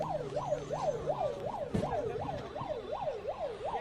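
An ambulance siren sounds near a hospital mortuary, a fast wail rising and falling in an even, repeating cycle, fairly close and steady, with one brief thump partway through and no speech.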